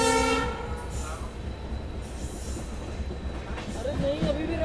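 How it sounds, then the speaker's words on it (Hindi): Sri Ganganagar–Jhalawar City Express, hauled by a WDP-4B diesel locomotive, with steady rail rumble and a train horn at the start, heard close throughout with faint voices toward the end. "तो ये है जी अपनी श्री गंगानगर जलावर सिटी एक्सप्रेस।"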